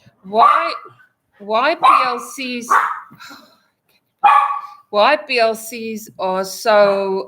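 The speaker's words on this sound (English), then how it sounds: "Pardon the dogs. I don't know why they're barking" Dogs bark intermittently in the background of a webinar conversation, partly masked by steady talk from speakers throughout.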